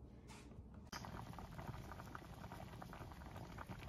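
Water in a pot of squash pieces for candied squash with piloncillo comes to a boil with a faint, constant bubbling and fizzing heard close up, and nobody talking.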